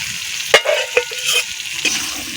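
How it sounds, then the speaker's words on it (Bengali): Fried potatoes being stirred into a reddish cooked masala in a pan, with a few sharp spatula scrapes and clinks over a soft sizzle, close and alone. "মশলার সঙ্গে সুন্দর করে আলুটাকে আবার কষানো হচ্ছে"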